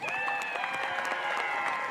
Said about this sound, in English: Let's give these young men a big round of applause.